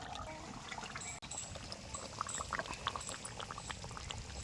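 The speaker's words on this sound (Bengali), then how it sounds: "মাংসটা আমার হয়ে গেছে, এবার আমি ঢেলে নেব।" Cooked desi chicken curry with raw plums melted into it is poured out, a continuous wet pouring and trickling with small splashes and bubbling, close and steady.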